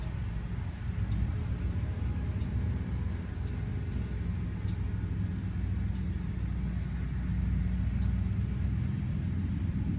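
Cars on a nearby road make a steady low rumble of passing traffic outdoors, fairly faint and continuous, with no distinct single pass-by and no talking.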